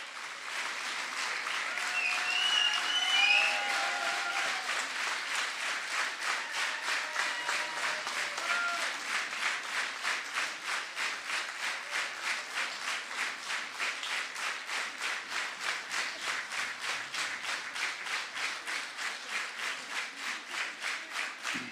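A folk-evening audience in Spišské Vlachy applauds a traditional dance ensemble for a long stretch. The dense clapping gradually settles into steady rhythmic unison claps, and no one speaks.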